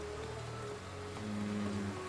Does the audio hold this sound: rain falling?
yes